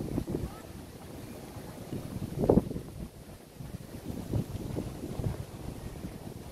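Wind buffets a handheld camera on a phone stabilizer out on a day tour of Singapore, a steady low rumble with gusts that swell and thump, loudest around the middle.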